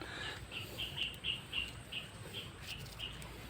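Bulik bird calling by a creek after being caught in a snare: a series of short, high chirps repeating roughly every half second, faint over quiet outdoor background.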